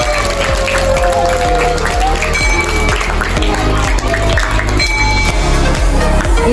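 An audience claps for a children's roleplay presentation about computer parts, a loud sustained wash of hands falling into a steady rhythmic beat, with voices mixed in.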